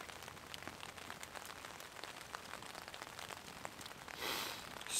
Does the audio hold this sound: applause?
no